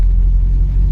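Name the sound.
Maruti Zen car engine running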